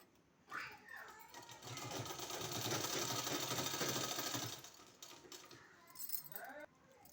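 A sewing machine runs in a close, steady whirring burst while stitching a kurti sleeve design, starting and stopping with brief clicks, and faint background voices can be heard.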